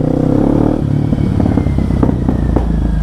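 A loud motorcycle exhaust popping, the bike idling with a rough rumble before sharp crackles and pops burst out in quick succession, close and unaccompanied by talk.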